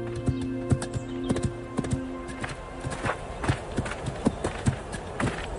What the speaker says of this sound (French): Vos chevaux sont très gentils tous les deux.